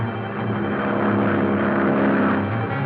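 A propeller ambulance plane approaching to land drones steadily and loudly, a constant low hum that holds throughout without pause.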